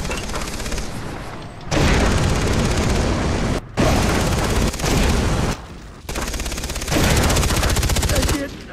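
Heavy automatic gunfire in Far Cry 3, loud sustained bursts of shooting broken by short gaps, with a few booming blasts mixed into the rattle.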